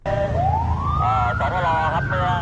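An ambulance siren wails at an airport after a Singapore Airlines flight landed following severe turbulence, its tone sweeping upward and then warbling, loud and close over a rumbling vehicle engine.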